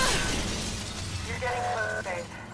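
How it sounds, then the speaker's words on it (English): Glass shatters as a player crashes through a window in the Mirror's Edge Catalyst finale, a sharp crash followed by a brief tinkling of debris and ringing tones over a continuous game soundscape. "I'm gonna crash through the glass."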